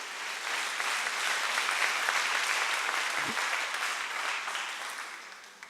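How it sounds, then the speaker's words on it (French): An audience at a conference applauds a guest speaker, a steady wash of clapping from a moderately sized crowd, heard at some distance, that swells briefly and then tapers off near the end. "vous avez le droit de l'applaudir."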